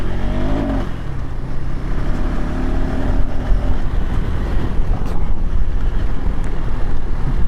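KTM 390 Adventure X motorcycle ridden off-road, its engine a loud, steady drone buried under heavy wind buffeting on the microphone, continuous throughout with no talk.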